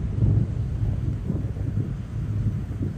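Tornado wind roars in the Roblox storm-chasing game Twisted, a loud, steady low rumble with gusty swells and no voices.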